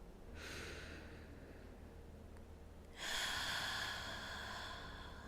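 Long, slow breaths during a kneeling yoga practice, a soft drawn-out inhale followed by a fuller, louder exhale, close and intimate with no talking.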